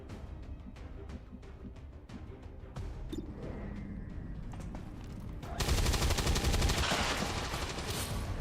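Rapid bursts of gunfire from the turn-based strategy game XCOM 2, with a string of sharp shots over steady background noise, then a louder, sustained roar of heavy fire near the end.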